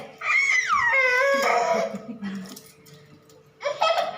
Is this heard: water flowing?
no